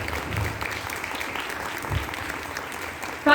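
Church congregation at an Urdu sermon in Youhanabad applauding loudly, a steady sustained wash of clapping throughout with a sharp louder burst at the very end.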